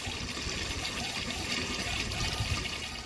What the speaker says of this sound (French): Je vais remplir maintenant la réserve d'eau de Falcor à fond.